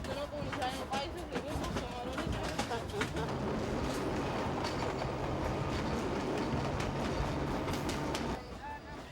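A freight train in Africa rumbles steadily along the rails with rhythmic clacking and a continuous roar, fading slightly at the end.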